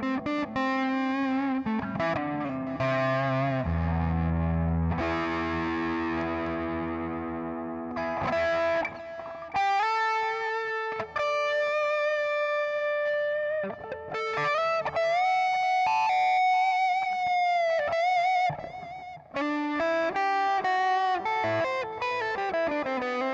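An electric guitar plays distorted, sustained lead-tone notes and chords through a multi-effects pedal with analog delay and hall reverb, giving a spacious reverb tail; loud and continuous, no talking.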